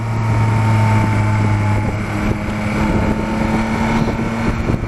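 Yamaha Tracer 9 GT motorcycle engine pulling under acceleration, a close, steady humming drone with strong harmonic tones, mixed with wind buffeting against the microphone.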